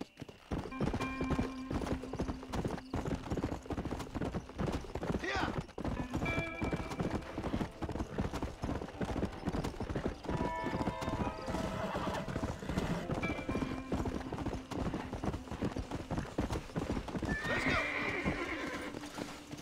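Rapid, continuous hoofbeats of a galloping horse in Red Dead Redemption drum steadily throughout, with occasional whinnies and faint game sounds layered over the rhythm.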